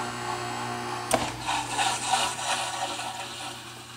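A steady mechanical hum and whir of a dishwasher running, with a sharp click near the start and no sound of water spraying.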